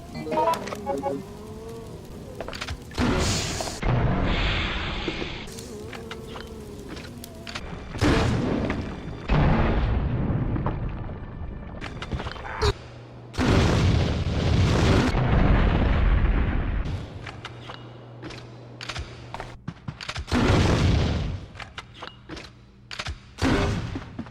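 Explosive rounds fired from a weapon in the video game Resident Evil Outbreak, a series of loud booming blasts and bursts spread across the clip with busy game effects between shots.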